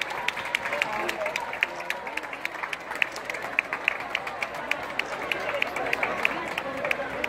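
Crowd applauding and cheering outdoors in Cuenca as the King and Queen depart, a steady wash of clapping with sharp individual claps popping through and chatter underneath.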